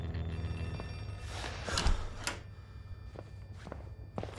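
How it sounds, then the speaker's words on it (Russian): An in-game telephone rings in the horror game Outlast 2, a few bursts of ringing over footsteps and soft thuds as the player moves around, with no voices. "Да, это телефон."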